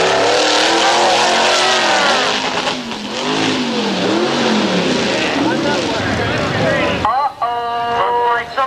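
2-wheel drive Mudslayer truck racing through a mud run, a loud engine revving and wavering in pitch as it strains, with a crowd and an announcer's voice over it.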